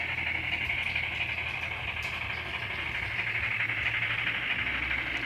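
Bachmann Branch-Line Baldwin Class 10-12-D model locomotive sound decoder playing a steady hissing steam and chuffing loop, continuous and moderately loud with a low rumble beneath, no talk.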